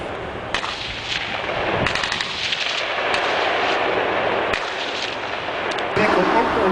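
Bursts of gunfire crack repeatedly during a live-fire military exercise, where a vehicle-mounted Mini machine gun fires at targets. The loud, sharp reports ring out over steady outdoor rumble at irregular intervals, with no speech.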